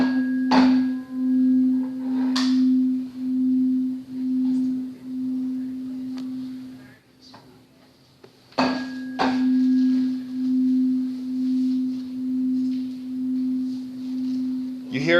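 Two nearly identical pure sine tones sound together in a physics lecture hall, their combined hum swelling louder and softer in a slow regular pulse, briefly cut off midway before resuming.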